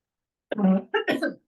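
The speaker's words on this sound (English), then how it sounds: "The smoke has been so bad around here that it is making my voice all yucky and coughing" A couple of rough, throaty coughs close by from smoke irritation, a short burst followed by a second, with a faint click at the end.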